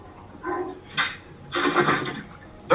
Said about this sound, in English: Big ass dog.